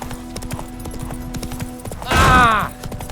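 Roach, the horse in The Witcher 3, clops along at a steady gallop, then a loud whinny rises briefly near the end over the hoofbeats; some speech is mixed in.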